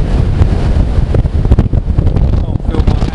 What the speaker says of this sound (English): In about half an hour, we'll die of fucking the wind.